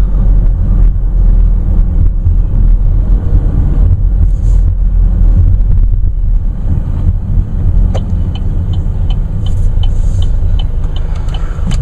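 A 2014 Chevrolet Cruze Turbo Diesel heard from inside while driving at low speed, with a steady low engine and road rumble and a few light clicks and rattles.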